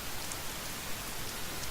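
Rain falls at night in the survival game The Forest, a dense, steady hiss of drops on surfaces with a few faint, brighter spatters, continuous and even, with no voices.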